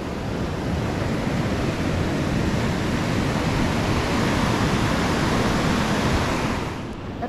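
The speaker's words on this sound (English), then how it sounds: "Right now it is high tide, so the water is very close." High-tide surf roars close by at Nagaon beach, a continuous, broad wash of noise with some wind buffeting, easing slightly at the very end.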